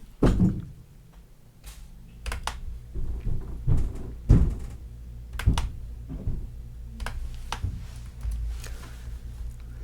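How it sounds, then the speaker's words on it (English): A child bangs on a door, a series of irregular loud thumps and knocks spread through the clip, some close together and others spaced apart, close by against a low background hum. "It's breaking the door though."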